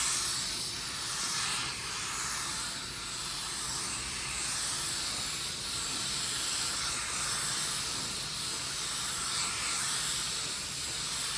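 Spray gun laying down a heavily metallic car paint loaded with coarse and medium flake, a steady, loud, unbroken hiss of atomizing air and paint holding constant throughout with no talk.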